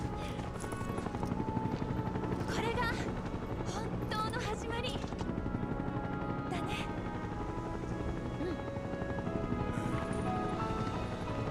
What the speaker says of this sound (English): These helicopters are hella annoying.